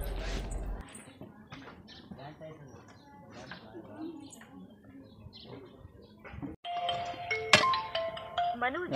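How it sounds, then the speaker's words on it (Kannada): A mobile phone ringtone plays in a home, a bright melodic chime that swells near the end of the clip. It follows quieter stretches of background voices and household sounds. "ಯಾರು ಫೋನ್ ಹಚ್ಚಿದ್ರಪ್ಪ ಕೆಲ್ಸದ ನನಗೆ"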